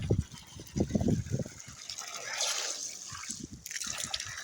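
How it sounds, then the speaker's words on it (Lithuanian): Water from a freshly flushed mini borehole well pours into a small bucket, gurgling and splashing in bursts. A steadier trickle and fill follow, close by with no talk. "Pripilsim į slaikėlį."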